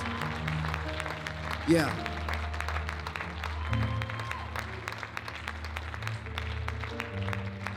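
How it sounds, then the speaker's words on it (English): A church congregation claps during a sermon's call to praise, with steady sustained applause across the room, mixed under music and a voice calling out. "If we're going to clap, let's just clap like we mean it."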